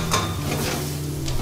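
Chopped onions sweating gently in a pan as the base for a squash soup, giving a soft, steady sizzle with a few light stirring scrapes over a brief moment.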